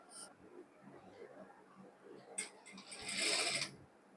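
A sewing machine runs briefly while stitching maxi dress fabric, a soft, quiet whir that swells into a short, brighter burst of stitching near the end, with faint background noise and no talk.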